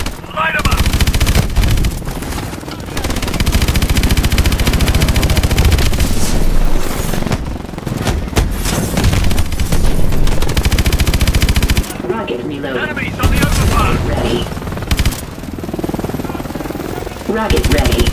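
Gunfire in the video game Call of Duty Advanced Warfare, dense and loud machine-gun bursts that run almost without break, with booming hits and voices shouting over the barrage.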